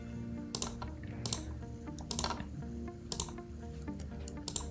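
Mouse clicks while plotting a route in Google Earth, a string of about eight sharp, close clicks at uneven intervals over a faint steady background hum, with no talking.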